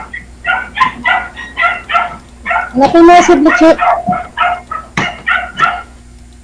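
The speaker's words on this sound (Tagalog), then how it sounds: "Daming aso." Several dogs bark and yip in a rapid, repeated chorus of short close calls running nearly the whole time, with a person talking over them partway through.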